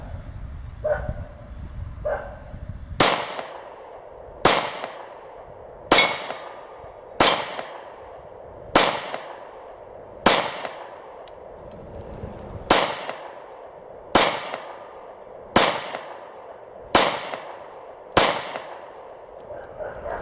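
A SCCY CPX-2 pistol fires eleven sharp gunshots at a steady, unhurried pace, each a loud crack with a short ringing decay, following some faint handling noise at the start.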